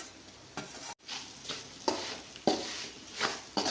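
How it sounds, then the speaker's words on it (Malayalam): Sautéed bitter gourd is stirred into turmeric, Kashmiri chilli powder and salt in a pan for pickle, making soft sizzling and about six rhythmic scraping stir strokes at close range. "നമുക്ക് പാവയ്ക്ക ഇട്ട് കൊടുക്കാം വഴറ്റിയത്"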